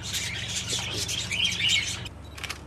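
Princess parrots chirp and squawk in quick overlapping bursts over a low hum, busy at first, then thinning to a few brief calls.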